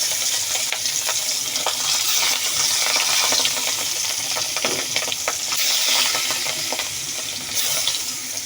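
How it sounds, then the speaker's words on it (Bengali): Rohu fish pieces rubbed with salt, turmeric and chili fry in hot oil, giving a steady close sizzle with scattered crackles and pops throughout and no voices. "এগুলো এখন তেলে দিব। এই যে তেল গরম হয়ে গেছে।"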